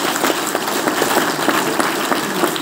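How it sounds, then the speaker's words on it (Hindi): An audience at a motivational meeting claps steadily, dense crowd applause with crisp overlapping claps, loud and alone with no talking. "ताली बजाएं उनके लिए भी।"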